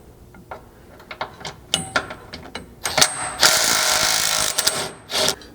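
A ratchet wrench with a 17mm socket works a lower sway bar link bracket bolt under a 2022 Toyota Tundra, with quick bursts of clicking pawl strokes, then a sustained run of fast ratcheting and a final short burst, close up.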